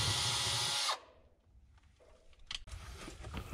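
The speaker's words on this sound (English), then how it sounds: "a pilot hole is drilled through the galley wall into the cabin" A power drill whines loudly for about a second drilling a pilot hole through a camper galley wall, then stops, followed by quieter scraping and handling noises.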